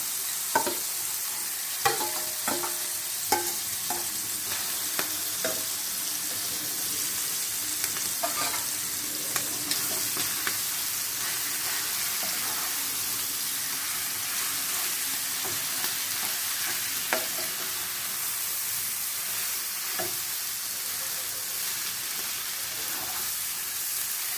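Potatoes and prawns fry in hot oil for bread pakora, giving a steady, close sizzle with a crackling hiss and occasional stirring clicks throughout, no voices.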